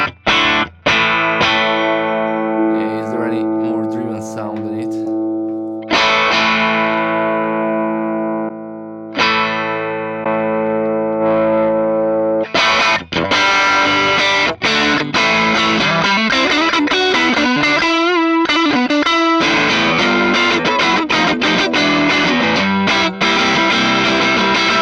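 Electric guitar runs through a JHS Twin 12 amp capture on a ToneX, starting with sustained ringing chords that decay between strums, then moving into busier, brighter strummed and picked passages, loud and upfront with no talking.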